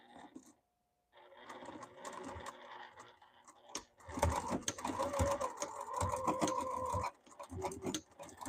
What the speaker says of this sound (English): I need to probably stitch my zipper closed